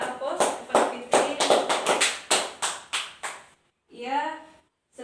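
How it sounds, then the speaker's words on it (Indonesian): Classroom applause for a student, a burst of sharp, rhythmic hand claps from a small group, lasting a few seconds before stopping, followed by a brief spoken voice. "berikan aplaus kepada Fitri"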